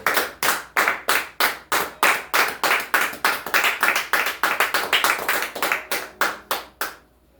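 A church congregation claps in unison, a loud, steady rhythmic beat of about thirty sharp claps that speeds up slightly before stopping abruptly, with no talk over it.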